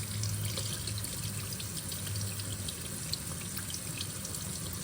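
A water tap runs steadily to rinse a sharpening stone used for honing a straight razor, a continuous close splashing stream with no talk over it.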